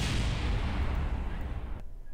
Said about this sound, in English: That was a big explosion.